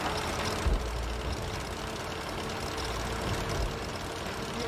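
A tank engine in World of Tanks roars steadily at high power, a dense, continuous mechanical drone with a few low thumps, no talking.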